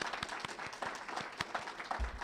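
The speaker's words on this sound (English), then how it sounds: "Please join me in giving her another round of applause" An audience applauds a speaker at a U.S. manufacturing address in Huntsville, with a dense, sustained wash of clapping and distinct nearby claps standing out in a loose rhythm.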